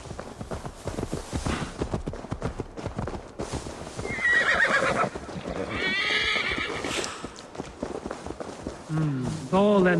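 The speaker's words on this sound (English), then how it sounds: "Now to deliver Magni his horse." Horse hooves clip-clop at a steady trot in Assassin's Creed Valhalla, then a loud whinny rings out near the end, with game music and faint chatter underneath.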